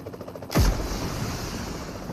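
A sudden loud blast or gunshot with a falling boom in the mobile war game Payload, set against a steady low rumble that continues after the shot.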